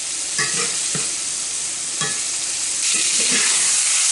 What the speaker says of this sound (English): I've got the temperature set for that venison. It's cooking up real good. It's getting golden brown.